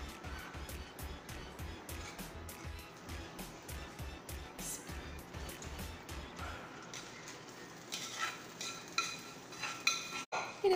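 A spoon stirs cooked green gram in a metal pot, with rhythmic scraping and clinks repeating steadily, then a few louder knocks against the pot near the end.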